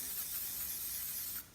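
Oil spray hisses steadily onto the air filter foam of a KTM 50SX dirt bike, one close continuous burst that cuts off at the end.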